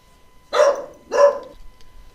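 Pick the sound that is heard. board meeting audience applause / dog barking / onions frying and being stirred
dog barking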